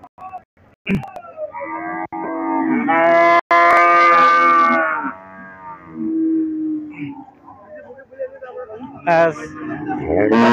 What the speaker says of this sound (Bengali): দেখি যে বাজারের ভিতরে কেমন গরু আমদানি হচ্ছে